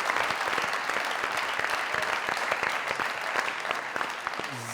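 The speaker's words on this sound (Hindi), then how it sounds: "जोरदार ताली।" Loud, sustained applause from a studio audience at a Pakistani TV comedy talk show, dense and steady clapping continuing throughout with no speech on top.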